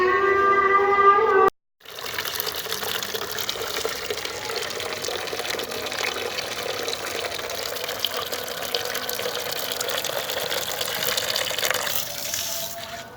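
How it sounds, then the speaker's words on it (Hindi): Dirty water from the supply gushes steadily into a house, a loud continuous rushing flow that fills the whole stretch after a brief opening sound and a short gap. "पानी देखिए किस तरह का आ रहा है पूरा घर में"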